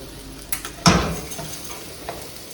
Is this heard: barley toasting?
yes